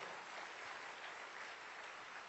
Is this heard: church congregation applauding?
yes